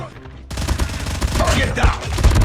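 Loud, rapid bursts of Fennec gunfire in Call of Duty Mobile crackling densely and continuously after a brief quieter moment, close and aggressive.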